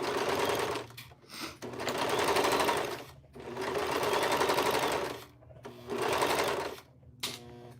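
A sewing machine stitches fabric in three long bursts separated by brief pauses, loud and close, each run a steady buzzing drone.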